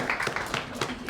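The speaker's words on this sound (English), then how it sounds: "We got a round of applause of about 10 people after we'd finished making the sausage" About ten people give a small round of applause after a sausage is made in a Victorian-style shop: a brief patter of clapping from a few hands, fairly faint, with voices underneath.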